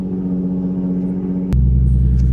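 A loud Nissan 350Z engine rumbles steadily up close, then abruptly settles into a heavier, deeper drone partway through.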